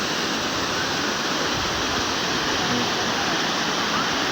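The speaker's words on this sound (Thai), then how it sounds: "นี่ครับก็คือ บรรยากาศของน้ำตกนะครับ" Waterfall at Tham Phra in Bueng Kan, Thailand, with water pouring down a high rock cliff and striking the rocks below. It makes a loud, steady, close rushing roar with no break.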